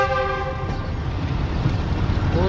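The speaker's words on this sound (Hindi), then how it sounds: "और जिस तरह से आपको अच्छी आवाज़ सुनने को मिल रही है इस लोकोमोटिव की।" A Karakoram Express locomotive runs with its horn sounding, a steady loud rumble of train and rail noise with sustained whistle tones through the first part, continuous and close.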